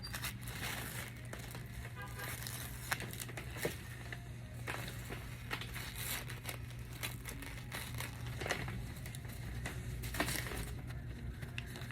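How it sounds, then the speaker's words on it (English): Cut vinyl letters being peeled one at a time off a custom doormat stencil, making a steady close crinkling and crackling with small sharp ticks throughout. "Just gonna find where my letters are and just peel them out one at a time."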